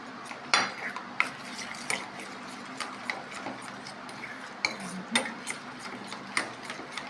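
Daangar pachadi, a yogurt-style side dish with urad dal flour, being mixed in a bowl, with soft stirring scrapes and light clinks of utensil against the dish repeating irregularly, close and fairly quiet.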